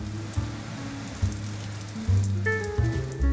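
A rice-filled knot dropped into hot oil crackles and sizzles with a steady bubbling hiss, close and alone, with low thumps and a faint ringing tone entering partway.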